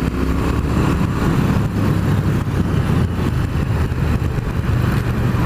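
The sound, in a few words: Triumph Thruxton R 1200cc motorcycle engine while riding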